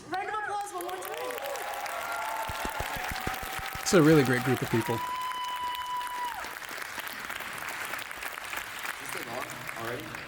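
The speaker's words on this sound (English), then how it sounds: "Round of applause one more time." An audience applauds steadily throughout at a Final Fantasy VII Remake cast panel while a speaker talks over the clapping, which swells briefly near the middle.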